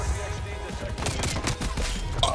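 Gunfire in the video game Call of Duty Cold War, with a Hauer 77 in use: a loud, rapid burst of overlapping shots and impacts lasting a couple of seconds, with no talk.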